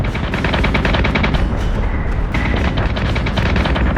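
Rapid, dense gunfire rakes a squadron in the space battle game Battlestar Galactica Deadlock, loud, continuous bursts and heavy thuds filling the whole stretch without pause.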